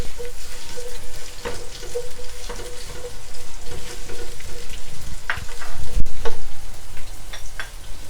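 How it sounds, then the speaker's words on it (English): Red onions fry and sizzle steadily in hot oil for samosa filling, with the crackle continuing throughout and periodic scraping and stirring strokes of a spoon in the pan, close and fairly loud. "I'm going to add my onions, the red onions first."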